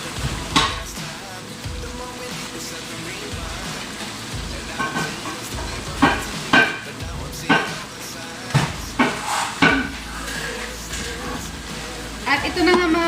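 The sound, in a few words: frying potatoes and eggplant in a pan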